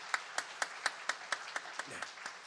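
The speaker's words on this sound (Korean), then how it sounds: "우리 축복의 박수하도록 하겠습니다." A church congregation at a Sunday service claps in unison, steady evenly spaced claps at about four per second, faint and somewhat distant, with the beat loosening toward the end.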